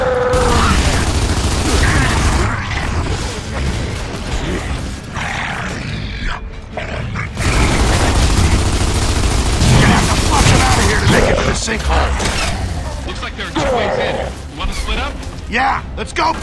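Sniper fire and battle noise in the video game Gears of War 2, with booming shots and heavy combat rumble filling most of the stretch, broken by a short lull, while character voices and grunts sound over it.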